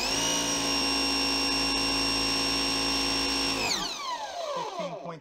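A pressure washer driving a foam cannon on its jet setting gives a loud, steady high-pitched whine and hiss that holds evenly, then cuts off and winds down near the end.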